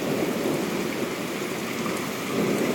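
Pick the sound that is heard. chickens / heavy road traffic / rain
rain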